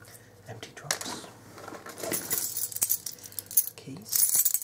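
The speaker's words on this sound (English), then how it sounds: "Keys." Keys on a work keyring, with a pair of headphones attached, jingle and clink in short bursts, close and fairly quiet. Small rustles occur between the jangles.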